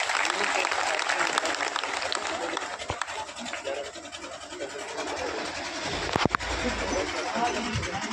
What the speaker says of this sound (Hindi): जोरदार ताली एक बार और बजा दें।